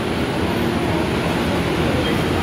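An MRT metro train at Ortigas station rumbles steadily and loudly nearby, a constant rolling rail roar with no clear breaks or voices.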